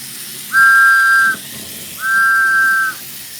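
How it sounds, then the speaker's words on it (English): A vintage Tootsietoy tin whistle from an HO gauge toy train set blown twice, two steady shrill toots of under a second each with a short pause between, close and loud over faint background hiss. "And this even came with a tin whistle,"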